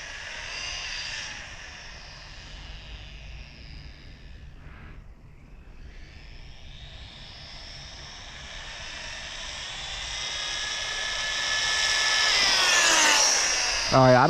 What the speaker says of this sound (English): Granite Grom 2s speed run.